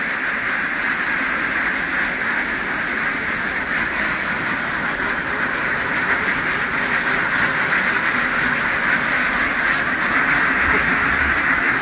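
A large flock of itik ducks quacks continuously from a truck, a dense, loud, unbroken chorus of overlapping calls with no talk.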